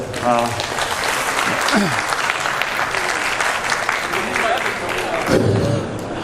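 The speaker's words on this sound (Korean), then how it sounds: "박수 한번 주시죠." An audience at a liquor fair lecture on Korean whisky claps steadily and fairly loudly, with a voice and some musical tones sounding over the applause near the start and again toward the end.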